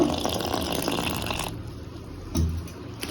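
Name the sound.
water poured into bajji batter mix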